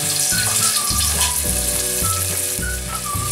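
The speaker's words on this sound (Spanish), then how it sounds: "Le vamos a poner los ajos a nuestro sartén que tiene aceite vegetal para que se vayan friendo." Chopped garlic frying in vegetable oil in a skillet for a shrimp broth gives off a steady, close, crackling sizzle that runs without pause, with faint tonal sounds in the background.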